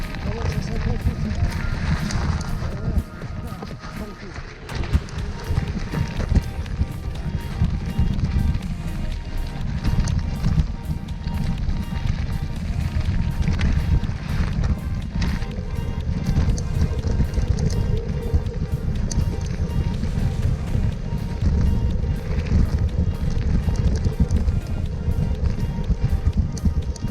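A Dualtron Raptor electric scooter rides along the Canal de l'Ourcq, producing a steady, loud roar of wind and road rumble that continues unbroken through the whole ride.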